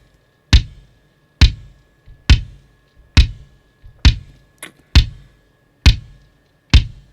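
A 3D-printed 24-inch bass drum filled with aquarium granulate is struck eight times at a steady pace, giving loud, close, deep thumps with tight attacks and short decays.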